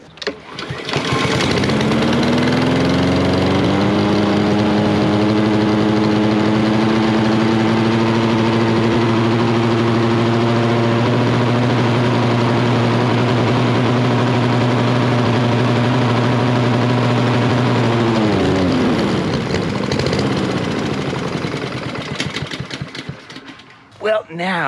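A small gasoline engine on a rowing-style machine idles steadily at close range with a loud, even drone, running down the last fuel in the carburetor bowl before it sputters and cuts out near the end.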